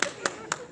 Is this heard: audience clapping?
yes